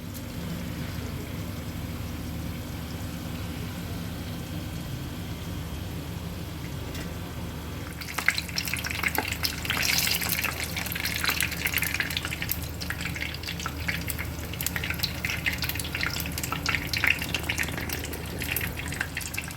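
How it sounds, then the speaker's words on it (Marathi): Green chillies coated in nylon sev drop into hot oil for mirchi bhaji and start to fry, giving a sudden rise into a bright, bubbling, crackling sizzle that carries on steadily after a quieter lead-in. "आणि मग ही मिरची आपल्याला अशा पद्धतीने तेलामध्ये सोडायची आहे"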